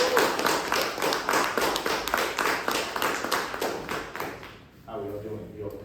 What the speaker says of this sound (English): So I'm clapping right now for Ishmael Gaines.